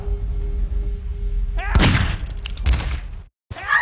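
Gunfire in Garry's Mod, with a couple of sharp, loud close shots and a booming blast following a brief quieter stretch, then a sudden cut to silence and another burst.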